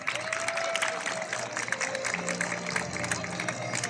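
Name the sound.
applause seeing off guests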